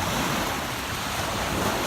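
Sea waves washing onto the shore at the Florida Trail's northern terminus seashore, a steady broadband wash mixed with some wind, continuous and fairly close with no voices.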